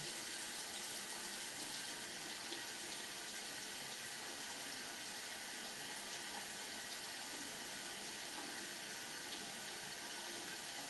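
Tap water runs from a faucet in a steady, unbroken hiss for a pet parrot to drink, filling the whole stretch evenly with no voices.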